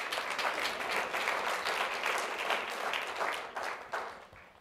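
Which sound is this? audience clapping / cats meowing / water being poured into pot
audience clapping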